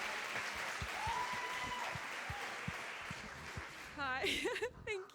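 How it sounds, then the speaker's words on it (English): A studio audience applauds for a woman named Christy, steady clapping filling the room, with a voice starting to speak near the end. "a round of applause, everybody."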